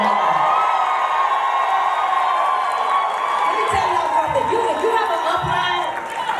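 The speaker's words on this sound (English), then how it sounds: "Go ahead and give your upline a round of applause right now." A large seminar audience of Total Life Changes network marketers cheers and whoops loudly in a sustained crowd roar, with shouting voices and scattered claps running throughout at close range.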